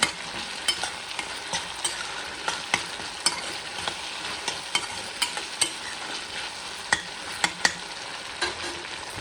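Food frying in hot oil with a loud, continuous sizzle and sputter, broken by frequent sharp pops and crackles at an irregular rhythm, close up and without any voices.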